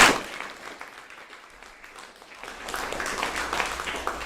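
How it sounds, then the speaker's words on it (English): Applause from the audience at a music scholars' masterclass: a burst at the start, a thinner patch of scattered clapping, then fuller clapping swelling again toward the end, moderately loud and without speech. "Let's give him a big round of applause."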